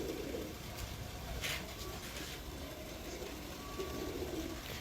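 Pigeons cooing softly in a loft among a prize breeding line of racing pigeons, low murmuring coos repeating through a steady background hum.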